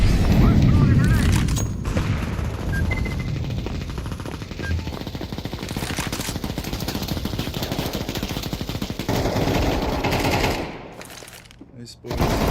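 Sustained automatic gunfire in Counter-Strike 2, dense rapid bursts rattling for about ten seconds, loud and close, then briefly dropping away before firing resumes; voices are mixed in beneath the shooting.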